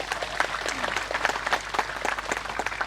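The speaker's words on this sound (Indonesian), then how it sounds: "Tepuk tangan untuk Pak Yai." An audience applauds a religious leader at an Islamic sermon gathering, a dense, steady burst of many hands clapping, fairly close and sustained throughout.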